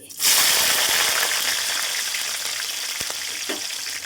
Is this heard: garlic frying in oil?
yes